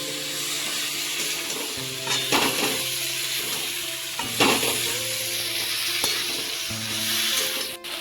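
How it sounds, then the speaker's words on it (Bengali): Fried vegetables are stirred into oil and spices for a lau data curry, sizzling in a steady close hiss over a low drone, with occasional scraping stirs punctuating the frying. "এবারে ভেজে রাখা সবজিগুলো দিয়ে দেবো, ভালো করে কষিয়ে নেব।"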